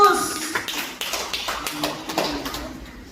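A Sunday church congregation at Bethany City Harvest claps along, sharp individual hand claps ringing out over a voice and some tonal background, the claps uneven and moderately close.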